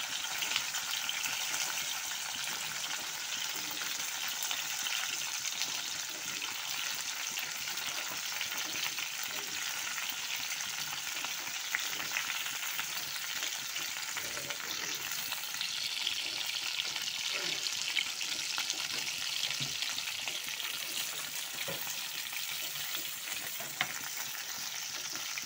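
Sliced okra and onion sizzle and fry steadily in hot oil in a pan, a dense, continuous crackle close up, with faint stirring throughout and no voices.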